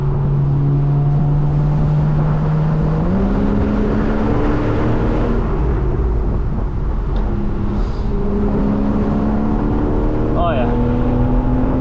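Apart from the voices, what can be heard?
2013 Porsche 911 Carrera S Cabriolet engine accelerating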